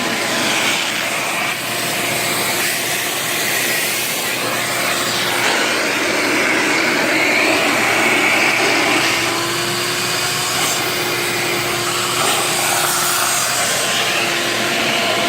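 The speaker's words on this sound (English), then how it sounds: "we're going to take this nozzle all the way to the end. Almost like a shop vac" Shop-vac style nozzle suction cleaning a GY6 scooter light housing, a steady continuous roaring whoosh with slight shifts in pitch, loud and close, no talking.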